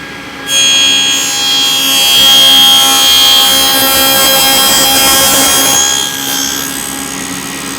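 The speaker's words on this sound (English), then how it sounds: "we're going to cut out this first notch in both ends of all of our side pieces" A power saw cuts a notch into the end of a wooden side piece for a workshop wall cabinet, a loud steady whining cut of about six seconds with a brief restart near the end, close by and with no talk.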